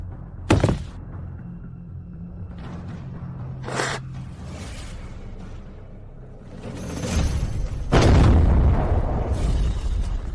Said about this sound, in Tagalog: Ano yun? Bakit sumabog?